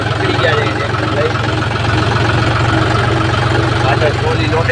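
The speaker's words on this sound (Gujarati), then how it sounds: "સવારમાં આપણે નીકળી ગયા છે ટ્રેક્ટર લઈ" A tractor hauling a loaded trolley on a morning run, its engine chugging in a steady, loud low rumble that stays even from start to finish.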